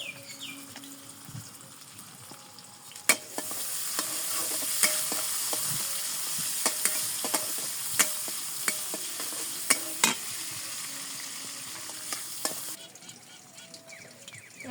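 Onions and green chilies frying in hot oil in a village kitchen, a steady bright sizzle with sharp pops and occasional stirring clatter, fairly close and alone without talk.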